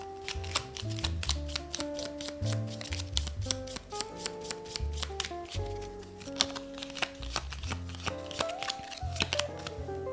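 Tarot and Lenormand cards are shuffled by hand in quick, steady riffling bursts of papery clicks under soft background music, with no talking.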